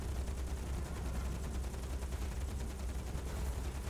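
Naval gunners firing from a warship in the World War II game Battlestations Midway at Pearl Harbor, a steady, dense roar of rapid gunfire and booms filling the whole stretch without a pause.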